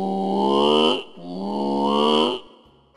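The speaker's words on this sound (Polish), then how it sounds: "Łoś." A moose calls twice in long, drawn-out moaning bellows, each rising and then cutting off, close and clear with nothing else around.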